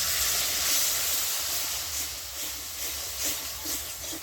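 Water poured into a pan of hot, well-fried spice paste for a curry sizzles as a loud, steady hiss that surges and eases slightly but never stops.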